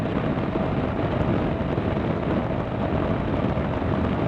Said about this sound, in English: the wind noise on the Vstrom, I think is an issue